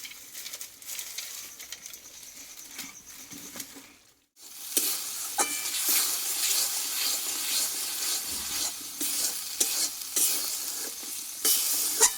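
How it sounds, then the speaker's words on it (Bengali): Spices stir-fried in hot oil in a pan, a loud steady sizzle with scraping strokes of a spatula, quieter at first, then a brief pause before the frying surges up and continues strongly to the end. "এবার সব মশলাগুলো একসঙ্গে ভালোভাবে কষিয়ে নেবো"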